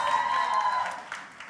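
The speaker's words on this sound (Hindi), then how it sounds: "1 2 3 जोरदार तालियां" Audience applause at a consumer pledge event, a steady patter of clapping from a crowd that fades slightly toward the end, with no talking.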